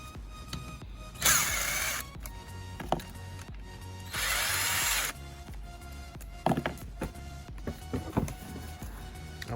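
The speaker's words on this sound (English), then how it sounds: "we can go ahead and start loosening these bolts" Camshaft bolts are loosened on a MK5 GTI engine during a camshaft swap, with two sustained bursts of a power tool or impact driver about a second long each, plus scattered clanks and rattles of tools and parts.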